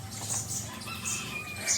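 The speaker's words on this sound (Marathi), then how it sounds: "कोंबड्यांचा आवाज असायचा." Chickens cluck and stir in a village yard, soft repeated clucks and a flutter of wings, fairly quiet with sparse high chirps over it.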